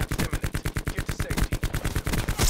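Rapid automatic gunfire from a Paladin and KN-57 in Call of Duty Blackout, a steady stream of loud, evenly spaced shots filling the whole moment with no talk over it.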